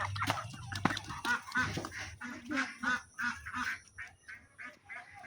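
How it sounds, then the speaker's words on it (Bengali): Ducks and ducklings kept as backyard poultry give a run of rhythmic quacks and small peeping calls, fairly close and loud, pulsing steadily for several seconds with no speech over them. "ও আমার হাঁস আছে, হাঁসের বাচ্চা আছে"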